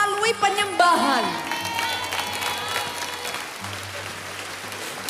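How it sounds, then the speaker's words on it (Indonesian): A church congregation claps for Jesus during a worship service, a steady wash of applause and crowd noise under music and voices. "Give a clap for Jesus"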